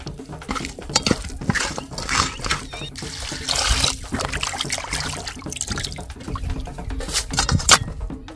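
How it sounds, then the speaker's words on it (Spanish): Pork ribs rinsed with lemon and plenty of running water in a kitchen, with splashing, trickling and handling sounds that come in uneven bursts, close and fairly loud. "Ahora lavamos con limón y sacamos el jugo con abundante agua."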